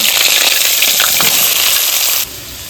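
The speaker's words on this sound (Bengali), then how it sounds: "এবার আমি বেগুনটা একটু ভেজে নেব।" Eggplant fries in a pan with a loud, close, crackling sizzle that runs steadily and then drops suddenly to a softer hiss near the end.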